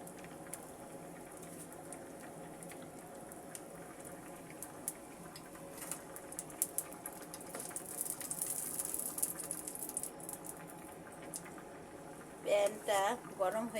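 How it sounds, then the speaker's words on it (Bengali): Oil heats in a frying pan before small fish are fried, making a faint, low crackle and patter that grows slightly toward the end, and a voice speaks briefly at the close. "ফ্রাই প্যানে আমি তেল দিয়ে দিচ্ছি।"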